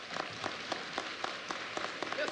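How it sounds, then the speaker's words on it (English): Audience applause for the Honorable Louis Farrakhan Muhammad, a steady patter of many hands clapping with sharper individual claps scattered throughout, moderately loud and continuous. "Let's give him a round of applause."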